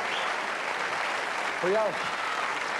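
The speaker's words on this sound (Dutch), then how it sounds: "Terecht. Applaus." Studio audience applause on a 1993 Dutch televised singing-impression contest final, a dense, steady roar of clapping throughout, with a presenter briefly speaking over it.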